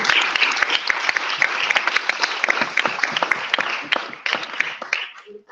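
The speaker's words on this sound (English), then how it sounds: "So let's give them a round of applause." An audience at the UK Parliament applauds children with sustained, dense clapping, close and lively, then thins and fades out near the end.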